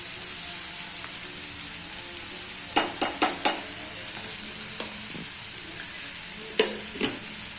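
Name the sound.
onion frying in a pan with salt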